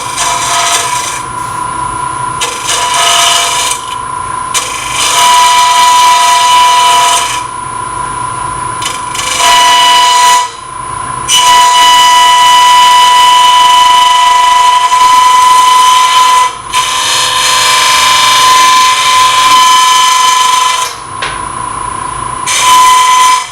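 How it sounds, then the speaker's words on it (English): A gouge makes light cuts into an open-segment wood turning spinning on a lathe, giving loud, sustained rasping passes with short pauses between strokes and a steady motor whine running underneath. "I'm going to make very light cuts with the gouge"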